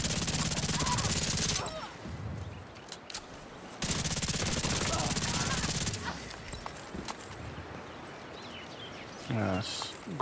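Chameleon rifle fire in The Division 2, heard as two long bursts of rapid automatic gunfire separated by pauses, with someone talking over and between the shots.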